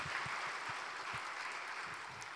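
A congregation applauds during a Wednesday worship service at a Korean church. The clapping is a faint, even wash of many hands, and a few soft low thumps show through it.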